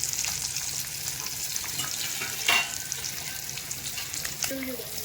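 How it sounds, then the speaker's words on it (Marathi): Small freshwater fish, freshly caught in the first monsoon rains, fry crispy in a hot pan with a steady, close sizzle, a brief louder clatter near the middle, and no voices. "मळवे सगळं टाकून घेतले ना कुरकुरीत फ्राय करून घेऊया त्यांना"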